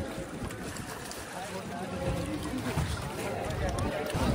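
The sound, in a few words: boat on river at Kumbh Mela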